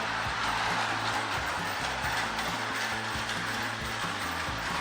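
A Lionel toy train runs loudly on plastic Fast Track, a continuous close clattering and rattling of wheels over track joints with a steady mechanical whir, no voices.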